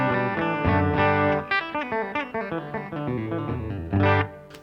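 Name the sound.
electric guitar clean tone through amp modeler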